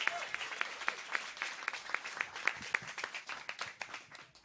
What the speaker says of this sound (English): And keep those applause going for Amanda Keysberry